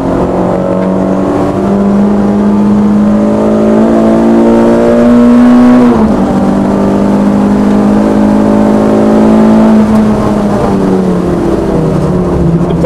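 A Renault Clio 172 engine drones loudly and continuously on a race track, its pitch climbing as it revs, dipping briefly around a gear change, then rising again under steady road noise.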